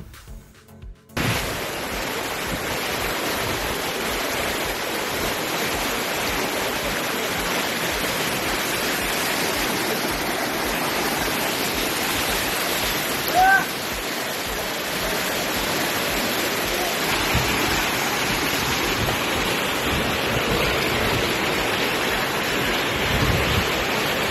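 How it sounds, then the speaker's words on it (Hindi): The Kundu river runs in heavy flood after intense rain, a loud, continuous roar of surging water that persists unbroken for over twenty seconds, with wind buffeting the microphone and no one speaking. "कुंदू नदी में ज़बरदस्त बहाव देखा गया"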